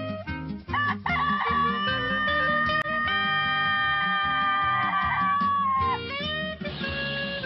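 A Japanese chicken of a breed prized for its voice crows loudly in one long, sustained, tonal call that wavers slightly in pitch, heard up close over a low background of music.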